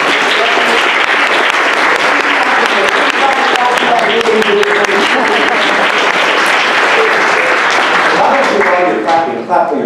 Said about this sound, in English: Ms. Deborah Jessen, a round of applause.